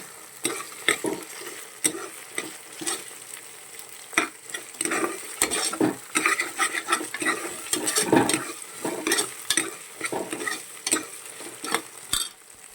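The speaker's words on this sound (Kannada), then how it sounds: "ಇದು ಹಸಿ ವಾಸನೆ ಹೋಗೋ ತನಕ ಫ್ರೈ ಮಾಡಿ" Ingredients for paneer ghee rice frying in a pan: a continuous sizzle broken by frequent scraping strokes of a spoon stirring, close and fairly loud with no talking.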